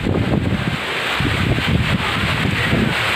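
Strong typhoon winds during a signal number 3 storm in San Fernando, Laur, Nueva Ecija, roaring and gusting close to the microphone with rustling buffeting, loud and continuous with no voices.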